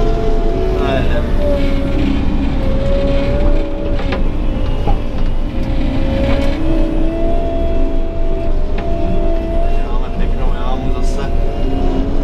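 A Dieci telehandler's engine runs steadily and pulls away, a loud continuous drone with a faint whine rising and falling, heard close from the cab.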